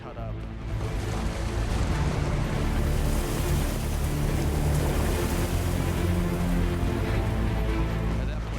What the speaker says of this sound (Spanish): Las olas rompían en mis piernas completamente cortadas.